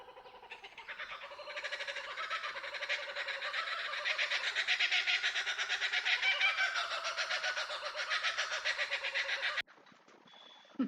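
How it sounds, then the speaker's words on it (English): A laughing kookaburra call rises into a long, dense cackling chorus of rapid rhythmic hoots, fairly faint and steady throughout, then cuts off abruptly near the end. "now I'm going to show you the laughing kookaburra"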